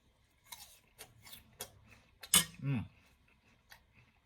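Someone bites into and chews a crunchy Asian apple pear close by, giving sharp intermittent crunches and one loud juicy bite in a quiet room.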